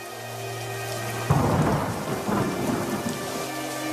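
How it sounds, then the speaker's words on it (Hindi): Heavy rain pours steadily in a cold-weather storm, and a sudden loud thunderclap breaks in partway through, followed by a rolling rumble under the dense hiss of rainfall. "लखन उस तेज बारिश में घर के लिए चल पड़ता है।"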